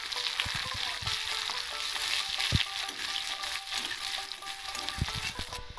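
Chopped onions and black cumin frying in oil in a pan, a loud steady sizzle with scattered stirring knocks and scrapes, no voices.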